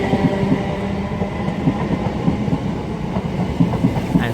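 A Greater Anglia passenger train with a class 348 in the middle and a class 353 at the back passes steadily on the line at Colchester, wheels clattering in a rhythmic clickety-clack throughout, close and fairly loud with no voices.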